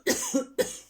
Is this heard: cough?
yes